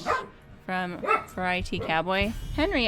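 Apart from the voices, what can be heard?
dog barking in the background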